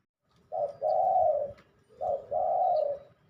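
Two clear dove coos, each a short note followed by a longer drawn-out call, close and prominent over a faint low background rumble with no talk.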